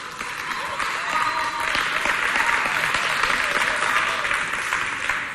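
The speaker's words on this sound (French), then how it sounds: "on applaudit ce moment" Audience at a youth holiday competition award ceremony in Chad applauds the winning team, steady dense clapping from a crowd that swells and holds for several seconds, with faint voices mixed in.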